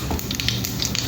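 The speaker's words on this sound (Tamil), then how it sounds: "கடுகு பொரியுது." Mustard seeds splutter in hot oil while a snake gourd and drumstick poriyal is cooked: a steady, close sizzle with scattered sharp crackles and pops throughout.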